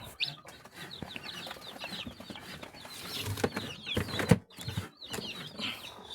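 Rhode Island chickens on a farm cluck and chatter in a continuous, irregular stream, near and moderately loud, with some wing flapping and a few sharper knocks.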